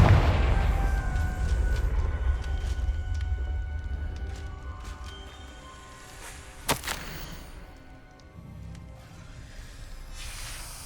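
A Confringo spell blast in Hogwarts Legacy erupts as a sharp cracking burst over a rumbling, fading explosion, with smaller crackles and magical hum trailing off afterward.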